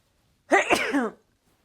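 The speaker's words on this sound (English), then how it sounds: "I'm going to sneeze." A single sharp sneeze, close and loud, with a brief breathy burst and voiced trailing release, surrounded by silence.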